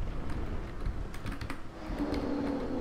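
Steady computer keyboard typing heard at moderate level during a Dark Souls 3 gaming session, with soft key clicks over a constant background hum and no talking.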